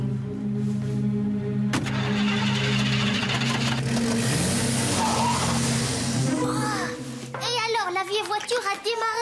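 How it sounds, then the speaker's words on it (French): An old car engine cranks, catches and roars off at speed, a loud steady engine drone that cuts out abruptly near the end, followed by people talking. "La vieille voiture a démarré en trombe."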